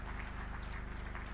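A crowd at a BJP Rajasthan ceremony claps steadily to welcome Madan Rathore, a dense, even patter of many hands held at a constant level throughout.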